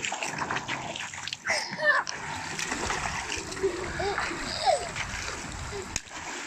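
Children splashing water in a hotel jacuzzi in Dubai, with irregular sloshes and splatters close by under frequent talking and calls from adults and kids.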